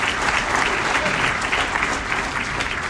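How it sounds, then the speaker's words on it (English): An audience at an awards ceremony claps steadily for an absent honoree, with loud, even applause filling the whole short stretch and no break. "But let's give him a big round of applause."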